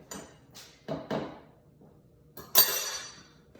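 A clean metal spoon clinks and scrapes against a blender jar or container while protein powder is added to an afternoon smoothie, giving several separate close taps and a brighter rattling clatter near the end, with no talking.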